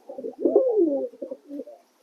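A satin pigeon in a loft gives a single close, throaty coo, a soft rolling phrase with a short pause before it trails off.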